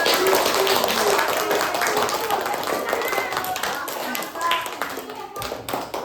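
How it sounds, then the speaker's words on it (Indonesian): A class of children claps for a classmate group, giving brisk, uneven hand claps close by that thin out toward the end, with some children's voices mixed in. "tepuk tangan dulu untuk kelompok 2"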